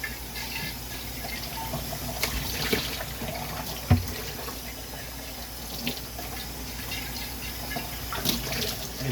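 Tap water runs steadily into a culture vessel to rinse out bleach, a continuous close flow with gurgles and a few sharper splashes, no voices.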